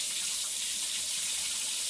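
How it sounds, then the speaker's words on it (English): Tap water runs steadily from a kitchen faucet as hands are washed after handling raw chicken, a continuous close hiss of flowing water with no talking. "Wash my hands."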